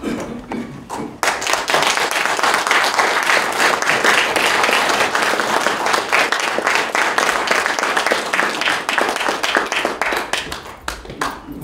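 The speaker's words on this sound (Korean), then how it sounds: "우리 강사님 모시는 큰 박수로 모시겠습니다" An audience at a special Liberation Day lecture gives a lecturer a long, loud round of hand clapping that starts abruptly and holds steady for about ten seconds before thinning out.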